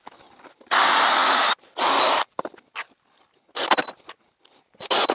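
A power drill drives screws to fix scrap stock onto a CNC table, two long loud whirring bursts followed by shorter clicks, handling knocks and a few brief trigger bursts, with no talking.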